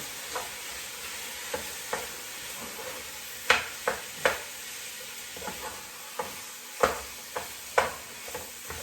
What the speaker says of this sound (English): we've got our garlic sauteing in there with our sausage